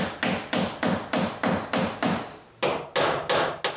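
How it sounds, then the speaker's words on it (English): Hammer blows strike door stoppers onto a wooden woodshed door at a cottage, a steady series of about eleven sharp, close taps spaced roughly a third of a second apart, alone without talk. "With the door in place, I can install the door stoppers."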